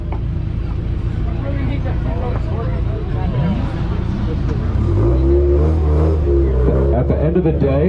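A Subaru exhaust revs at an outdoor exhaust competition, the engine swelling louder in the second half while someone talks over the crowd noise.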